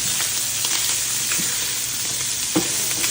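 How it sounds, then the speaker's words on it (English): Cabbage frying on high heat and browning in a pan, with a dense steady sizzle, occasional soft pops and one sharper clack of a utensil, close up and without speech. "You see I got that cooking. It ain't going to take this long. It's already browning. Got it on high."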